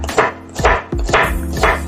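A knife chops shallots on a cutting board while making sayur lodeh: four loud, close, evenly spaced chops with solid thuds against the board and no speech.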